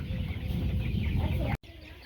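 Chickens cluck steadily at a farm, a dense nearby chorus of hens with a brief dropout near the end and no talk over it.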